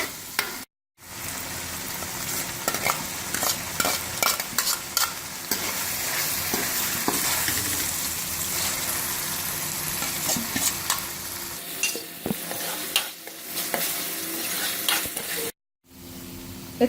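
Green chili and ginger slices frying in a Pakistani Shinwari beef karahi, a steady close sizzle with repeated stirring scrapes running throughout, broken by two brief silent gaps.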